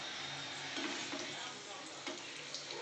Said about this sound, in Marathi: आता मी ही तेलामध्ये पुरी सोडणार आहे।